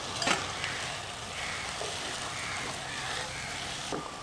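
Onion and tomato sautéing in a pan for a pepper chicken curry make a soft, steady sizzle with a couple of faint spatula scrapes, quiet and even throughout.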